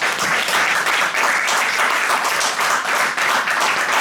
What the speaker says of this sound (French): Est-ce qu'on peut acclamer pour ma femme?